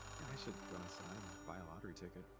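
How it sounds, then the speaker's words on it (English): A payphone rings in the Oxenfree II video game, its steady electronic bell tone running beneath a person talking over it. "Payphone ringing in the wild?"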